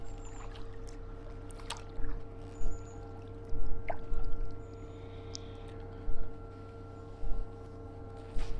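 A Hiqmar iSUP E-Fin electric motor on a paddleboard gives off a faint, steady whir with a constant tonal hum, while paddle splashes and water trickles come and go over it outdoors.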